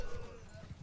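Cavalry horses galloping into a charge during a medieval strategy video game battle, faint rhythmic clip-clop hoofbeats under a soft background of game ambience.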